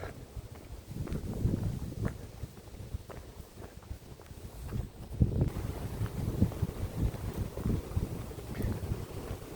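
Gusty wind buffets the microphone outdoors on Chinnor Hill in the Chilterns under overcast skies, with a low, uneven rumble that swells and eases, with no voices.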